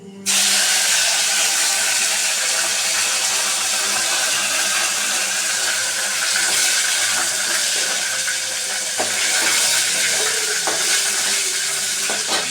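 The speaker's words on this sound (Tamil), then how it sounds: "கருவேப்பிலை நல்லா வதங்கிடுச்சு" Curry leaves sizzling loudly in hot oil in a pan, with continuous dense crackling and occasional spoon scrapes from stirring throughout.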